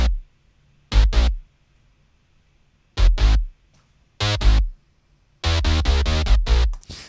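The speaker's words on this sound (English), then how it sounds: "So he's got this really cool, like, heavy synth on the bass." Heavy synth bass from an 80s synth pop and new wave mix, heard alone as loud, punchy low notes in short bursts separated by silences, ending in a longer run of rapid repeated notes.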